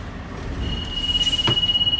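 A transit bus's low air pressure warning buzzer sounds a steady, piercing high-pitched tone that starts partway in and holds, over a low rumbling idle with a brief thump.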